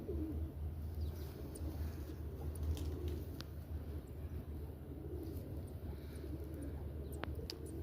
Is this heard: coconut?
no